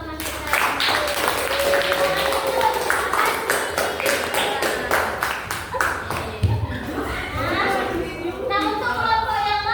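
Classroom applause rings out for a student who has just presented, a burst of many hands clapping in quick uneven rhythm, mixed with children chattering, then fading into voices and scattered claps.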